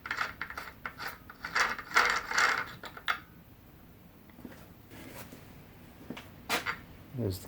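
A breaker bar loosens the cam nut on a Model T Ford engine during disassembly, giving off close ratcheting clicks and metallic creaks in short bursts, fainter scraping and taps following.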